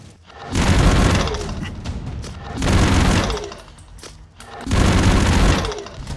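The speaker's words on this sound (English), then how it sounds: "there's a slight charge up to the weapon sound before you actually fire it" Sentry gun in the Broforce video game firing with a slight charge-up before each shot, heard as three loud, sustained bursts of booming gunfire separated by short gaps.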